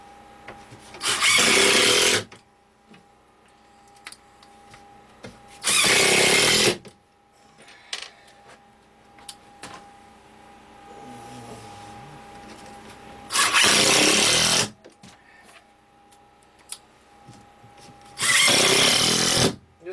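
A power drill drives countersunk screws into a wooden workbench in four separate loud bursts, each lasting about a second, with quieter gaps of faint handling noise between them.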